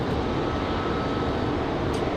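Airliner departing Raleigh Durham International Airport at dusk, a steady broadband engine roar filling the whole stretch at moderate distance, with no talk over it.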